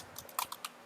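A handful of light, quick keystrokes clatter on a computer keyboard as a value is entered, faint and close in a quiet room.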